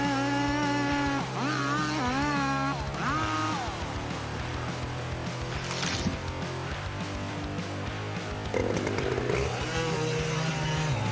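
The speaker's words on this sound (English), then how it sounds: "The fast spinning chain cuts through the bark first, then gradually moves deeper into the solid wood." A chainsaw bites into a tree trunk, cutting through bark into solid wood, its engine loud and close with rising and falling whines as the chain works and bogs in the dense timber.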